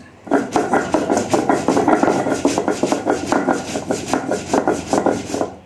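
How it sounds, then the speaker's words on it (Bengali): Spices are chopped for shukto, Bengali mixed vegetable curry, in a home kitchen. A blade strikes a board in a fast, busy rhythm of close, loud knocks that run almost without a break. "চলো মশলাটা কেটে নেই, শুক্তোতে দিতে হবে।"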